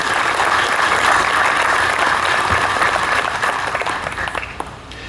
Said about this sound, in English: Please give these wonderful folks and organizations a round of applause for the concert this evening.